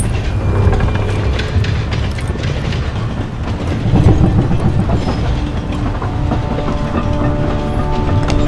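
Train wheels rumble and clatter steadily along rails in Call of Duty: Vanguard, a dense continuous rolling roar with rhythmic clickety-clack and faint metallic squeals, close and loud throughout.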